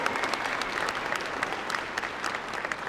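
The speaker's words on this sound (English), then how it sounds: "Let's give them one more round of applause" An audience at a county government address gives a round of applause for cheerleaders, a dense, even roar of many hands clapping that holds steady throughout.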